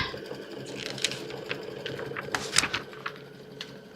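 An embroidery machine stitches sparkle details on a design for a Kimberbell Comfort & Joy project, a fast steady mechanical whir with rapid needle clatter and a few sharper ticks, close and alone.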